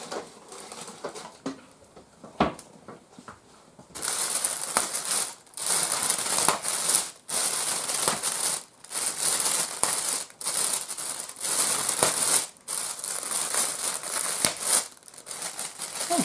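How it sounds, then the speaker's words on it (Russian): A plastic seasoning packet for meat is pierced and crinkled up close, giving sharp, rustling bursts that start and stop in repeated bouts after a few quieter clicks. "И немножко пакетик этот проколем."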